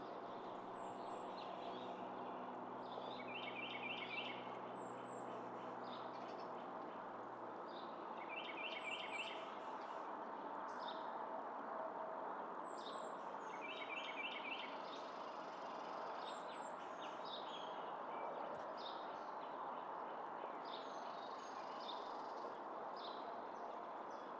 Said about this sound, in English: House finch.